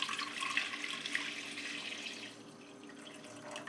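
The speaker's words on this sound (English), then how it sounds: "So we take this and we pour it on top of the roux." Chicken bouillon poured onto a roux in a pan, a faint, steady liquid splashing and hissing that tapers off toward the end, with no talk.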